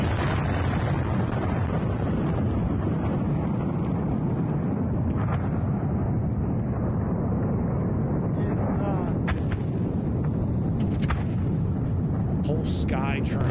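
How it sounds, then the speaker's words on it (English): Continuous heavy rumbling and booming from large ammunition depot explosions in Ukraine, a dense roar of blasts with voices faintly breaking through near the end. "this is another ammunition depot that Ukraine has blown up."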